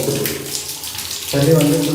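A bathroom water tap is opened during a remodel and runs steadily, loud and close, with a low rushing flow that grows stronger partway through; no voices are heard.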